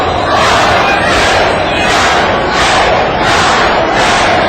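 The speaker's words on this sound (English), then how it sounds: "Crowd urging her on" Loud, dense wrestling arena crowd roaring and cheering continuously, rising in surging waves as fans urge a female wrestler on during a match.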